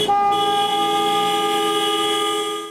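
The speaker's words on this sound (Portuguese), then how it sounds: "Buzinando, eles chamaram a atenção no trânsito." A sustained car horn blares loud and steady from a protest convoy of cars with black balloons moving through city traffic in Vitória, holding one long unbroken tone with no talk over it.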